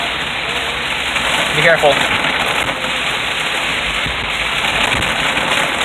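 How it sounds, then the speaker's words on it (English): Heavy rain pours steadily during an extreme flood in Port Neches, Texas, a dense continuous roar close by, with a few brief voices speaking over it. "it's never ever rained this hard ever in Fort Neches, ever"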